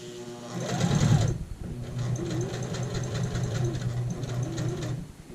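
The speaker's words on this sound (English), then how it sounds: "And now let's sew this line here on the diagonal." A sewing machine runs steadily, stitching a diagonal line across an apron, its rapid mechanical whirr loud and close with a brief pause near the start, and no talking over it.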